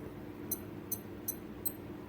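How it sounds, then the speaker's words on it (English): Casio F201 digital watch giving its hourly signal: a series of four brief, faint, high electronic beeps, evenly spaced, against a quiet room hum. "the hourly signal, which is a double beep at the top of every hour"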